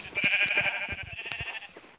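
A sheep bleats repeatedly in a button-finding video game, wavering nasal calls close and fairly loud, with short gaps between them.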